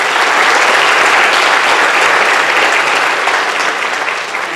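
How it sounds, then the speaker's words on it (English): A commencement audience at the 2023 Bakersfield College Delano campus ceremony claps in a dense, loud, steady wave of applause that fills the room, easing off only slightly at the very end. "One other round of applause for Clarabelle."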